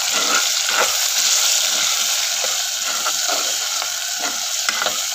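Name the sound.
stirring pepper, onion and ginger in pot for chicken tinola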